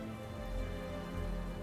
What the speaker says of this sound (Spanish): Donde está lloviendo.